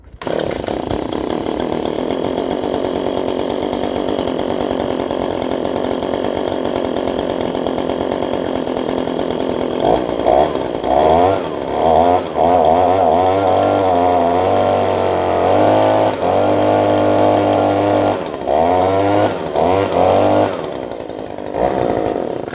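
A gas leaf blower's small engine runs at a steady, buzzing idle, then is revved up again and again, its pitch rising and falling in repeated surges up close.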